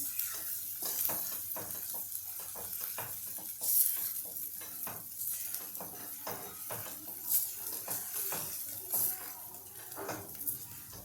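Onion and garlic masala frying in oil, stirred with a spoon in a pan: steady close sizzle with repeated scraping strokes and occasional louder clinks, no voices.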